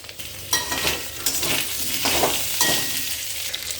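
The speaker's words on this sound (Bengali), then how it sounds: "পটলগুলো দিয়ে দিচ্ছি, ভাজা পটল" Fried pointed gourd pieces go into a pan with ginger and green chilli paste, setting off a close, steady sizzle with bursts of stirring and scraping, alone without talk.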